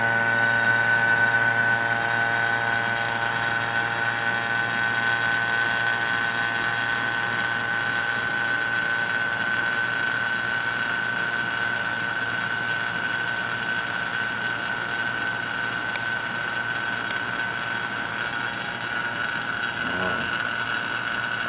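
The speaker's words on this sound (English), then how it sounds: "vacuum pump back on" A vacuum pump evacuating a high-voltage low-pressure chamber runs steadily, a loud mechanical whine with a fast ratcheting chatter underneath, holding constant throughout with a faint voice briefly in the background.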